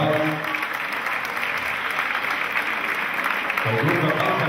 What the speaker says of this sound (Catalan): Bé, un fort aplaudiment.